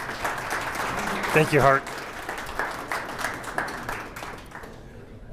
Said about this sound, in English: round of applause for all these guys